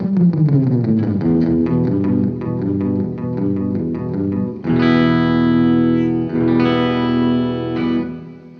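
Electric guitar played through the spring setting of an Aural Dream Listen Reverb pedal, a run of picked notes and chords washing into a hollow, lingering tail, loud and close with no voices.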